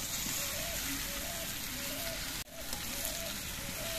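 Fried potatoes and pointed gourd sizzle in poppy-seed paste, a steady soft frying crackle with a brief dip midway and faint background tones.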